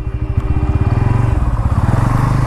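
A 2024 Bajaj Pulsar N160 motorcycle, a 160cc bike, is ridden and turned nearby, its engine giving a loud, rapid, pulsing putter that rises in pitch briefly as it accelerates.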